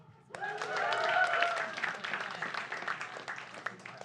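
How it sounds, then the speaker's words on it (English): An audience claps and cheers, a sustained burst of applause with a few excited shouts near the start. "Can we get another round of applause for Noah?"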